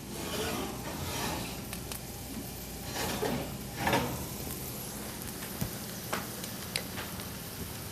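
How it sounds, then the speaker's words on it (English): Roasted, caramelized vegetables sizzle faintly in a pan, a soft, crackling hiss with a few scraping rubs and small ticks, quiet and close, with no talk. "You can hear them sizzling."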